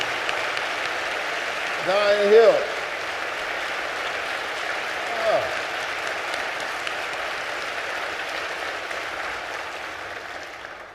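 An audience at a town hall with Sen. Raphael Warnock in Atlanta gives a steady round of applause for Zion Hill Baptist Church. The clapping is a sustained wash that slowly fades, and a voice speaks briefly over it.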